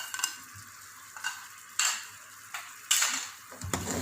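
Whole black peppercorns, green and black cardamom and cloves with ground dried coriander fry in masala in a pan for Sindhi biryani, giving a steady close sizzle broken by regular spoon scrapes about every half second, with no talking.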